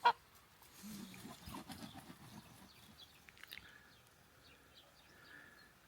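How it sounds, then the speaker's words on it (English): A young, growing farm goose gives a few faint, rough honks early on, then the outdoor scene settles into quiet rustling and distant bird chirps. "The goose is getting bigger and bigger."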